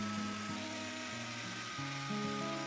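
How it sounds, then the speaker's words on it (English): Power router carving decorative grooves into a wooden door in a workshop: a steady, loud motor whine holds throughout, shifting pitch in several steps as the bit bites into the wood. "A power tool carves decorative grooves into the wood."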